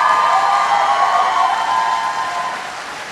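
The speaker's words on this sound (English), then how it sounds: "I'd like to ask that you return the love with a round of applause" Applause from a crowd at a college graduation convocation, a broad continuous wash of clapping that holds steady, then slowly tapers off.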